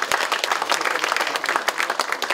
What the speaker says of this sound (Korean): 우리 서로 자랑스러운 서로를 위해서 큰 박수 한번 칩시다